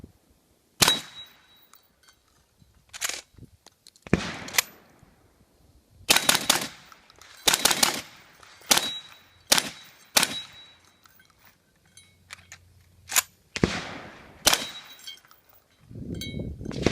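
Sharp, loud shotgun blasts fired through an improved modified ported choke, separated by gaps with metallic clinks and handling noise.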